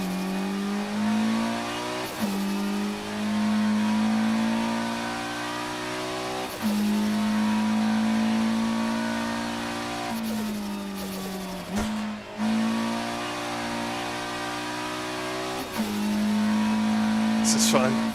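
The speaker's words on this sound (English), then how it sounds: "it's a noisy little car." A historic race car engine in the sim racing game rFactor 2 drones loud and close, rising in pitch through each gear and dropping sharply at every shift.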